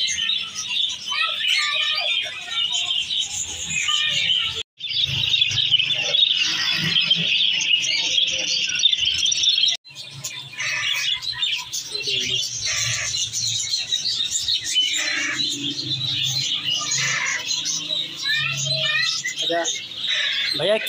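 At a bird market in Khanpur, dense squawking and chirping of caged parrots and pigeons carries on throughout, with people talking in the background.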